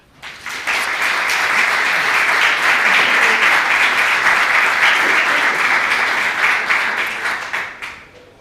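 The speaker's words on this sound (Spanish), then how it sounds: "Un fuerte aplauso para Javier Ponce" Loud, sustained applause from a large audience at the welcome session of a technology forum, greeting a government official. It builds quickly, holds dense and even for several seconds, then tapers off.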